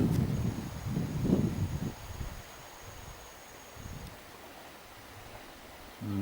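Cold wind gusting through a patch of snowdrops, setting them shaking with a soft, close rustle and low buffeting that swells in the first two seconds, then settles to a quieter steady hush.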